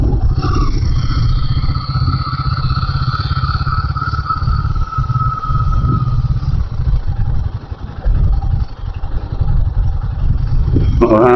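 A motorcycle rides in gear along a rough mountain path, its engine droning steadily and loudly with bumps and clatter from the uneven track, continuous throughout.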